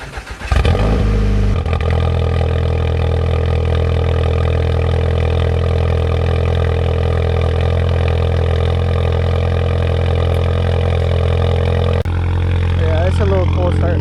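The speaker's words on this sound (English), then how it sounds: "I'll let you hear that cold start." Project car cold-starting with a CTS catted downpipe, high-flow cat and custom exhaust: the engine catches with a brief burst, then settles into a loud, steady, droning high idle that holds close by throughout.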